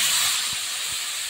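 Water poured into a hot pan of green pumpkin shukto gives a steady, loud hiss of steam lasting the whole moment, close by.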